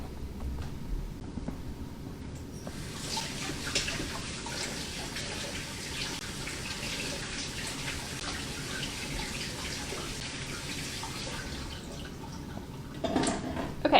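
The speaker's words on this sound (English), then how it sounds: "let me rinse off my hands real quick" A kitchen tap runs steadily for about ten seconds as two-ingredient dough is rinsed off hands, with a soft splashing wash ending in a brief clatter.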